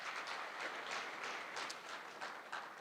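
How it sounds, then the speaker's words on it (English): An audience at a public engagement event applauds steadily, a dense, soft wash of clapping from a crowd heard at a distance with no talk over it. "Please, let's give another round of applause."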